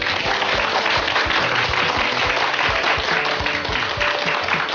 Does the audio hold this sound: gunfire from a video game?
no